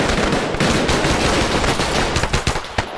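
Soldiers open up with dense, continuous gunfire from across a street in a World War II Pacific battle scene with US paramarines, a loud crackling barrage of overlapping shots that thins slightly toward the end.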